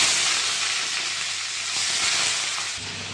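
Chicken dropped into hot oil with whole peppercorns, cloves, cinnamon and cumin, a loud, close, steady hissing sizzle that continues throughout.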